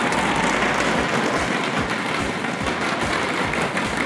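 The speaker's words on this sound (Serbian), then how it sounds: "Može jedan aplauz još za Stefana." Applause at an award ceremony for Stefan, a steady crowd of hands clapping throughout with no voices over it.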